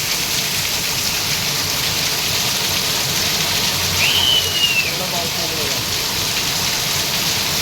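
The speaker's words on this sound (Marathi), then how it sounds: "तो पाऊस बघा चाळीमध्ये पाऊस बघा असं पडतो एकदम एकदम पावसाळ्यातल्या पावसासारखा" Heavy rain pouring down in a chawl, a dense, continuous hiss of falling water close by, with a brief faint whistle-like sound partway through.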